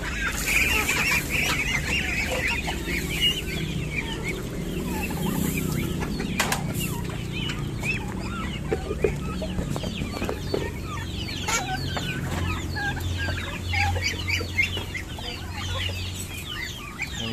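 Muscovy ducks and chickens at feeding time clucking, honking and squawking together in a busy, continuous chorus, with occasional sharp bird calls rising over the steady clamor.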